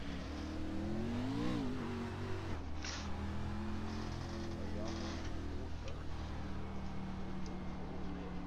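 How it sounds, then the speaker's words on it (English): A race car engine revs in the iRacing sim racing game, a droning motor with a rising-and-falling rev swell early on, heard faintly and steadily beneath background noise. "As we're going to hear him rev up the car a little bit,"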